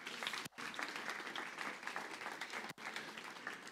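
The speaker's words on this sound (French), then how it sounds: "On peut les applaudir bien fort." A seated audience applauds loudly and steadily at a Valentine's Day talk, with two brief near-silent breaks in the clapping.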